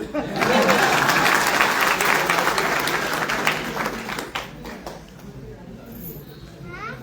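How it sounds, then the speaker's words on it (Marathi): Audience applause at a stage event marking a foundation's first anniversary: loud, dense clapping swells up and holds for several seconds, then thins into scattered claps and faint crowd voices. "वाजवा टाळ्या."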